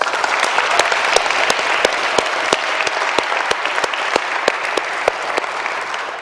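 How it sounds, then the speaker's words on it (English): An audience at a university lecture event applauds volunteers and organizers, a dense, steady wash of many hands clapping loudly and evenly throughout, with sharp individual claps standing out near the front. "Can we give all the volunteers and all the organizers a round of applause?"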